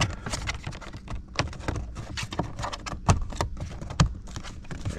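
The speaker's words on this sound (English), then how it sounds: "Snap them down in there." Plastic instrument cluster clips on a 2014 Ford Escape snap into place with two sharp, close clicks over steady handling rustle and light scraping.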